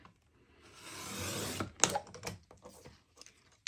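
A deckle trimmer blade scrapes through a sheet of scrapbook paper in one short rasping pass, followed by a few light taps and rustles as the paper is handled nearby.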